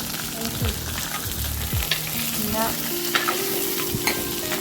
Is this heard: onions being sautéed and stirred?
yes